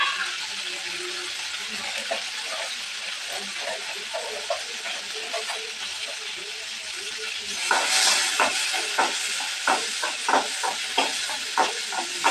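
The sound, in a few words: peanuts and green chilies frying in oil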